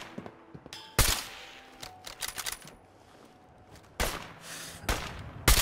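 Gunfire in the game Fallout 4, sounding as a few sharp shots and short bursts, with a close loud report near the start and more bursts later, separated by quieter gaps.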